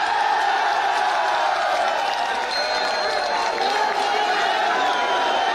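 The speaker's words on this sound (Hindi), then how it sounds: "हमारे जनप्रिय नेता श्रीमान सचिन पायलट जी, एक जोरदार तालियां" A large crowd of college students in Jaipur claps and cheers loudly for politician Sachin Pilot, a dense, steady roar of applause and whoops that fills the whole stretch without letting up.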